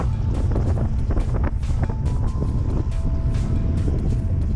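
Strong wind gusts buffeting the microphone on open water while fishing, a loud, continuous low roar with brief flutters and a faint tonal whine near the end.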